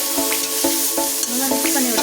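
A spatula stirs aval (flattened rice) upma in a pan, making loud, close scraping strokes in a quick regular rhythm of about three per second over a light sizzle, with no talk.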